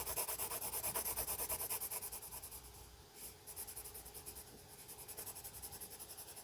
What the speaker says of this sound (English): I'm going to color in a second layer of dark blue.